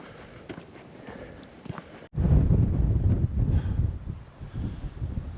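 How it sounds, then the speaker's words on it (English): Wind gusts roar and buffet against the microphone, a loud rumbling rush that surges in after a quieter, breezy start. "the wind's starting to pick up"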